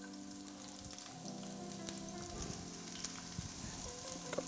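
Peppers and shallots sizzling in a hot pan, a faint steady frying hiss with scattered crackles and light stirring taps.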